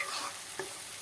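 Tanjariya leaf bhaji is stirred in an oily pan, giving a steady soft frying hiss with one brief scrape partway through, close and alone.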